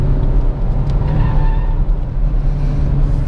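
A 2017 Renault Sandero RS Racing Spirit driven hard through curves, producing a loud, steady engine drone mixed with road and tire noise that holds constant from start to finish, with no speech.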